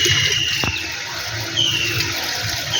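Water runs steadily from a pipe or tap while a fish tank is washed, a continuous close hiss with a brief splash near the start and no talk.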